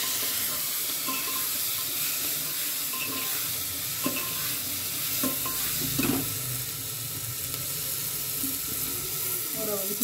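Red chilli is stirred into pasta in a hot pan: a steady sizzle runs throughout, with spoon scrapes and clinks against the pan breaking in every second or so, a little louder toward the middle, and no speech.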